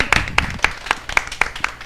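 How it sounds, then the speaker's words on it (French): Small group of people applauding themselves on a French-language show, with sparse, distinct claps in an uneven rhythm, close and fairly light. "on peut s'applaudir gang d'être là aujourd'hui"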